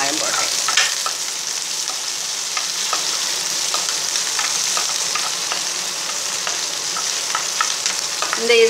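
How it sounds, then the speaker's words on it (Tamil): Onions and green chilies fry in a pan for ragi upma, giving a steady close sizzle broken by soft scraping stir strokes throughout, with no talking. "இப்போ வந்து ஆனியனும் பச்சை மிளகாயும் போட்டேன்."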